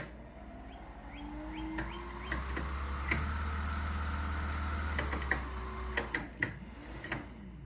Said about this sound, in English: I've connected the Minn Kota motor to my battery. Give it a little test.